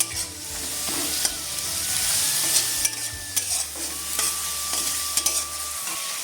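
Ginger garlic paste and chilli powder with a splash of water frying in a pan for a sea fish curry, a loud bubbling sizzle with repeated spatula scrapes and clinks, no talking.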